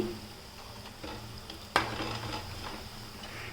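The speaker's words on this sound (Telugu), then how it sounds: "ఇలా మురుకులు ఆయిల్ ఆయిల్ వేడవ్వగానే ఇలా వేసుకొని ఇలా డీప్ ఫ్రై చేసుకుందామండి" Murukulu, crunchy Indian rice-flour snacks, deep frying in hot oil in a village kitchen, a steady close sizzle with bubbling swells and a brief sharp clink partway through.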